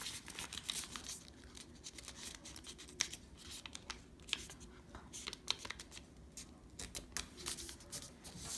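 Paper for a Han Foldo origami figure is flipped over and folded, giving faint, close crinkles, rustles and soft creasing taps in a quiet room.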